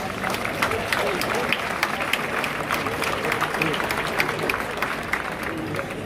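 Crowd applause at the Philadelphia mayoral inauguration, a loud continuous wash of many hands clapping with crowd noise underneath, steady throughout.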